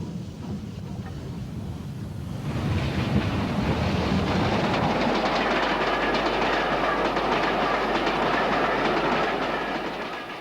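A British Railways Standard Class 4 steam-hauled train, double-headed, passes by, building from a distant rumble into a steady, loud roar with rhythmic clickety-clack of wheels on rail.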